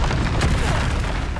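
An Expulso spell detonates in Hogwarts Legacy, a loud, sustained explosive boom with a rumbling low-end roar that fills the moment without any talk.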